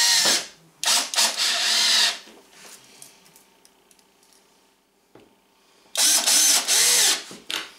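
A power drill drives screws into the side door of a teardrop trailer: two loud, close bursts of motor whirring, one about a second long and another near two seconds, then a quiet gap and a final two-second burst.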